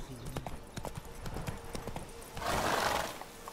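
Roach, the horse in The Witcher 3: Blood and Wine, gallops in a fast series of hoofbeats and lets out a loud whinny, with a burst of broadband rushing noise near the end.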